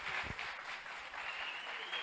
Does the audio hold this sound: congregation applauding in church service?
yes